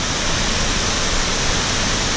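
Cachoeira do Postinho waterfall in Sengés, Paraná, gives a steady, dense roar of rushing water, loud and close with no break and no voices.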